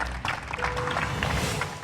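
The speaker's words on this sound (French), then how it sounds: "Je vous demande de l'applaudir très très fort." Dense applause from an audience at a basketball camp ceremony in Dakar, Senegal, sustained as steady close clapping with a faint tone running through the middle.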